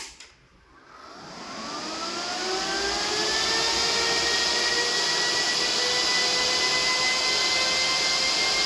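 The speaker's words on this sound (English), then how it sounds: "And the miner is booting." Antminer S19j Pro crypto miner booting up: after a short quiet start the cooling fans spin up within about two seconds into a loud, steady, airy roar with rising whining tones that hold at full speed to the end.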